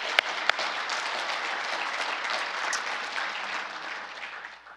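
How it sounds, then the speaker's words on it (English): A conference audience at the opening session of an international World War II conference gives a steady round of applause for a speaker, fairly even and moderately loud, with no talking. "So one more round of applause for Dr. Salter"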